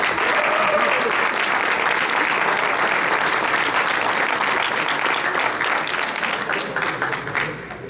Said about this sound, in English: Here's our hammer winners. Give them a round of applause.